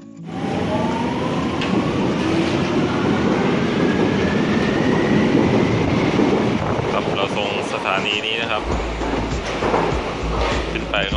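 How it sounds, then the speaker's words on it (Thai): Train running near Berlin, Germany, with a loud continuous rumble, rolling rail noise and wind buffeting the microphone, a rising whine at times and heavy low thuds toward the end; a voice may be present. "รถไฟไปกันครับวันนี้"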